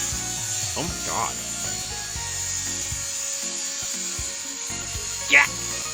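Scraping, rasping sawing strokes and a few knocks sound over a continuous hum and background music, with a sharp clank near the end.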